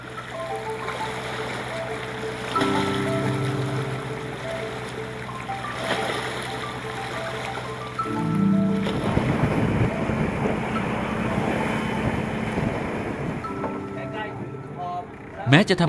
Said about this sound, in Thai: งานบนเรือไม่สะดวกนักในยามคลื่นลมไม่ค่อยเป็นใจ